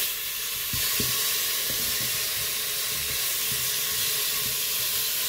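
Steady loud sizzle of smoked pork breast browning in fat inside a Cookeo pot, continuous frying hiss with faint stirring knocks, no one speaking.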